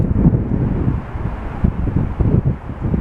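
Strong sea wind on a seafront promenade at Blackpool's North Shore buffets the microphone in loud, gusty low rumbles that pulse unevenly throughout.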